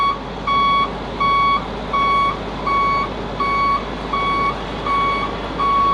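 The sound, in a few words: forklift reversing beeps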